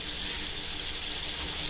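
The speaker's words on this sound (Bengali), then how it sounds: "কিছুটা পানি দিয়ে দেবো" Water poured into a cooking pan while preparing a pangas fish roe dish, a steady splashing gush that runs unbroken and fairly loud throughout, with no talk.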